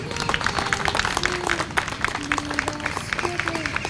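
An audience at a renovated park's reopening ceremony applauds the association's past leaders, a steady patter of many hands clapping, while a voice keeps talking over it.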